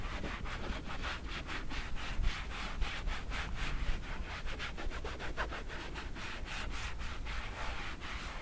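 Steady, rhythmic rubbing as Meguiar's Supreme Shine finish is worked into a car surface by hand, with close, even back-and-forth swipes that continue without pause.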